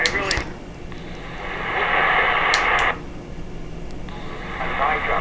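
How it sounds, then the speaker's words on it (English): A pocket RadioShack model 20-0669 shortwave radio scans the AM band, hissing static with brief clicks and snatches of stations jumping in and out at modest volume. "We'll just push the scan button and we'll find stations for us."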